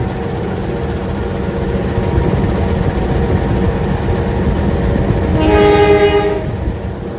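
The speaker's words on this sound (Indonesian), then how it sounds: "dari sana ada kereta komuter lain Walahar dari Purwakarta tujuan ke Cikarang ya" A commuter train rolls past nearby with a steady rumble of wheels and carriages, then sounds a loud tonal horn for about a second near the end.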